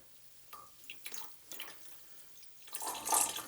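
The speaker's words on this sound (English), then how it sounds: "See that dripping in there?" Faint water drips from a siphon tube into a sake tank, a few quiet scattered plinks followed by a slightly louder trickle in a quiet room.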